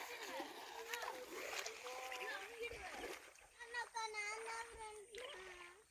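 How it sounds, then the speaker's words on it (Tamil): People wade through shallow water in a village stream, with intermittent splashing and sloshing beneath excited chatter from several voices, including children. "நான் தண்ணில நடக்கலாமா நட"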